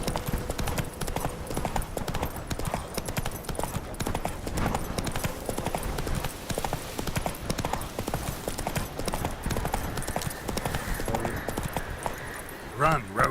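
Horse hooves clip-clopping at a steady galloping rhythm in a video game, continuous and fairly loud throughout, with someone talking over it in places.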